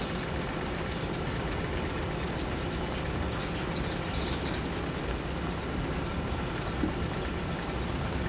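A Caltrain MP15DC diesel locomotive in a train simulator rumbles steadily at speed, a constant heavy low engine drone without voices.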